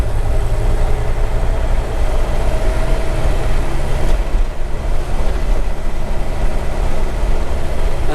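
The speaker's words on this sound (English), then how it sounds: "When you hit a bump in this, it's just the tires going thump." A 1951 Ford F-1 pickup on leaf springs rolls along with a dense, steady rumble of engine and road noise, its tires thumping dully over bumps, heard up close from the cab with no talking.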